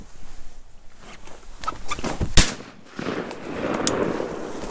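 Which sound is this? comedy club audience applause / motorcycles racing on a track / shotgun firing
shotgun firing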